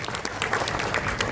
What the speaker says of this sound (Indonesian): Tepuk tangan dong buat Swanghor.